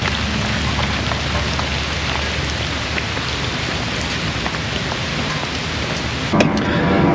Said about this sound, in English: We are just getting hammered with rain.